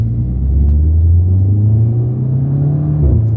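A 2009 Volkswagen Golf MK6 GTI pulls hard in second gear, its engine droning loudly and climbing steadily in pitch before a brief dip near the end, with no talk over it.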